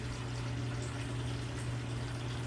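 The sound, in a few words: coolant draining from an LS engine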